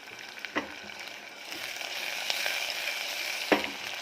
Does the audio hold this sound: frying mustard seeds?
yes